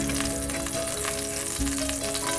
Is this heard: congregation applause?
no